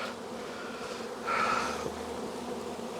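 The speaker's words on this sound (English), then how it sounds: "You'll have some bees in there." Bees buzz steadily at close range around a hive as its screen and lid are put on, a dense insect drone with a brief louder swell partway through.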